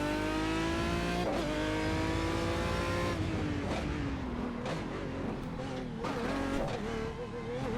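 A race car on a circuit in the iRacing simulator holds a loud, high engine drone that dips and climbs through gear changes, with brief tire squeals and bumps near the end.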